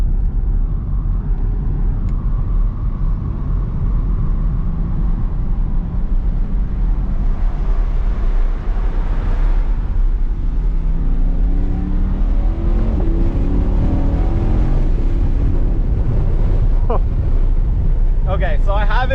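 A 2021 Chevrolet C8 Corvette being driven with a raised rev limit, its engine droning steadily under loud wind buffeting from inside the cabin, with rising revs near the end.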